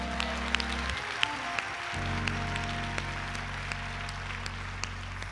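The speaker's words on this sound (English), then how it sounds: "clap your hands one more time." A church congregation clapping their hands during a service, a steady patter of claps over a sustained organ or keyboard chord, fairly distant and soft, with scattered sharper claps standing out.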